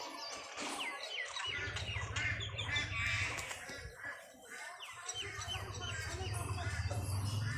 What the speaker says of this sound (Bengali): এদিকে শালিক পাখি ওদিকে পায়রা